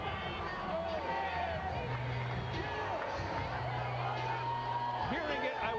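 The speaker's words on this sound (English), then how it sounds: "Hearing it, I would say, rather mildly from the crowd as he comes into view." At a heavyweight boxing event, the arena crowd reacts mildly as James Toney comes into view before facing Evander Holyfield. A continuous murmur of babble and scattered whoops runs beneath a commentator's talk.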